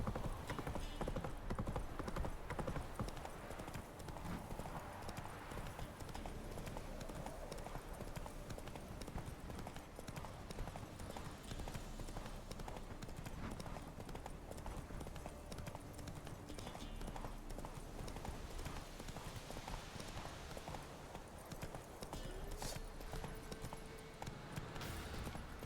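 Roach the horse trotting in The Witcher 3, with steady clip-clop hoofbeats under a dense bed of game music and ambience throughout.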